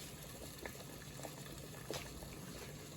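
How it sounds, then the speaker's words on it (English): Water boiling in a pot for okra gumbo, a soft steady bubbling with a few faint pops and splashes, quiet and close with no voices. "the water's boiling."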